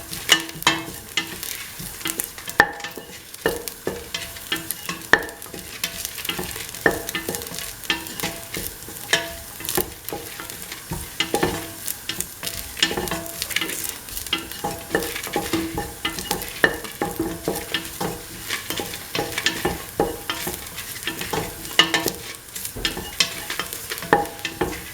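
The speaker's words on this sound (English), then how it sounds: "mix the red chilies with the garlic and the onions" Red chilies, garlic, onions and shallots are stir-fried in a pan, with a continuous close sizzle and frequent irregular scraping and tossing strokes running throughout.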